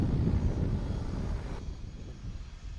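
Corsair aircraft with a 2,000 horsepower engine and huge 4-meter propeller roaring past, loud rumbling engine noise that drops away abruptly partway through.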